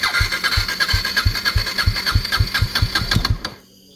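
A motorcycle engine runs with a loud, steady, close thumping beat that stops abruptly near the end, leaving near silence.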